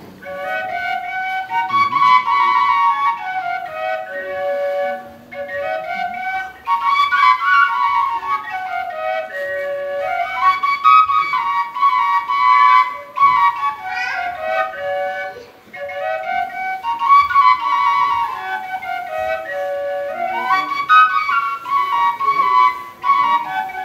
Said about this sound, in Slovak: takáto hudba s takouto píšťalkou dvojačkou